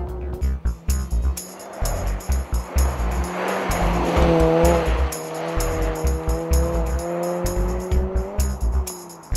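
A Mini Cooper S revs hard and accelerates quickly, its engine note rising and falling through gear changes, with tires squealing briefly as it corners.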